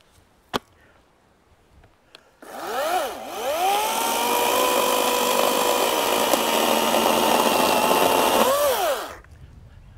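A sharpened saw cuts through a cedar fence post for a backyard fence, a loud sustained buzzing run of about six seconds that rises and falls in pitch at the start and end, preceded by a few sharp knocks.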